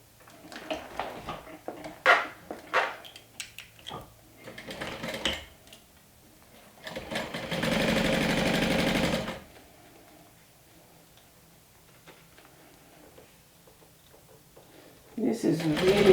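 A sewing machine runs a burst of stitching along a seam for about two seconds, a steady mechanical whir between scattered handling clicks and taps, with a voice speaking before it.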